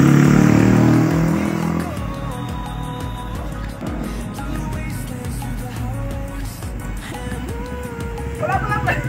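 Yamaha Sniper V2 motorcycle with 59mm bore, remap and racing cams, engine revving loud and close at first, then idling and burbling with shifting pitch, people talking over it.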